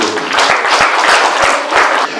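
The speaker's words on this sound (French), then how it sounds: "on les applaudit." An audience at an association meeting applauds, a brief loud burst of close hand clapping with distinct individual claps, sustained for about two seconds before tapering.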